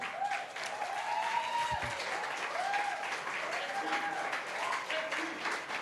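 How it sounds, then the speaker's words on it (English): Audience applause at the final of the APF Asian 9-Ball Open pool tournament, sustained clapping over a roomy ambience with faint whistle-like tones drifting through. "Round of applause, please,"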